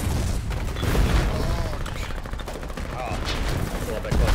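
Gunfire in the video game Foxhole, with repeated shots and booms over continuous battle noise and radio-style chatter, moderately loud throughout with a few stronger blasts near the start and end.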